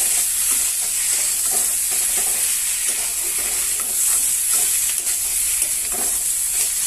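Boiled chickpeas and potatoes are stirred in a hot pan, giving a dense, loud, continuous sizzle with faint scraping and shuffling of a spoon through the mixture.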